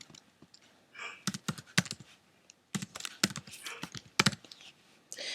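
Password being typed on a computer keyboard while buying a Cricut pattern, heard as quick bursts of close, crisp key clicks with short pauses between runs and no talk.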